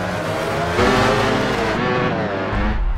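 Racing motorcycle engines from the video game MotoGP 13, a loud close snarl of high revs that rises and shifts pitch as the bikes accelerate and pass, with no voices.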